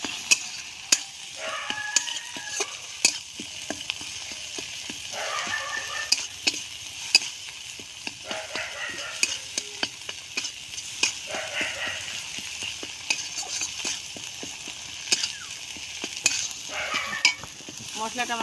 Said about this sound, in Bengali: বন্ধুরা এই টমেটো একটু গলা পর্যন্ত আমি মশলাটাকে কষিয়ে নেব।